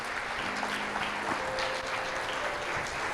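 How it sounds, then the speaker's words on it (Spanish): Congregation applauding during a church service sermon, a fairly quiet, steady wash of clapping heard from some distance, with a faint sustained tone underneath. "Dale un fuerte aplauso al Rey de Reyes y al Señor de Señores."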